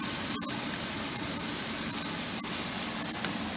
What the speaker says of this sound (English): I'm sauteing this green pepper, garlic, and red onion